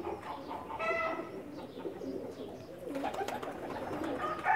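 Pakistani pigeons cooing, soft repeated throaty coos and low burbling calls from several birds close by, quiet against light background noise, with no talking over them.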